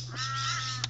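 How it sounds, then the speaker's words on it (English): A bird outdoors lets out a single harsh, drawn-out caw, close and clear, over a steady low mains-like hum, with a quick soft rustle right after. "There's some birds."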